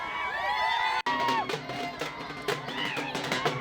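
Party workers in Bhoom Paranda, Dharashiv, cheer after a BJP panchayat samiti election win: a dense, loud crowd of shouts and whoops that breaks off for a moment, then carries on in overlapping bursts.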